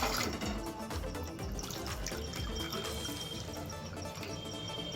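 Water poured from a measuring cup into a pot of cracked wheat for pulao, a steady splashing, gurgling stream that runs continuously and close by with no talking.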